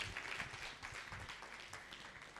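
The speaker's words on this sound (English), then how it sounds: "Clap for the table" A small audience at a gender equality bell-ringing event claps for the people at the table, quiet, slightly uneven applause lasting a couple of seconds and fading.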